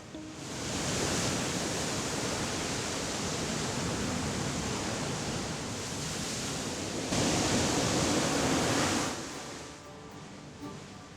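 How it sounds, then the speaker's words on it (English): Waves crash over volcanic rocks and black sand on a beach on Kos, a dense, roaring surf close by that runs steadily, swelling louder near the end before easing off. "Close by, waves crash over volcanic rocks and black sand"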